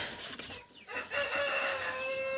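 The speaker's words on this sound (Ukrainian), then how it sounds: "Квочечки наче вже розсаділися" Broody hens settled on eggs in a coop give short, fairly faint clucks and a drawn-out throaty call against a quiet background.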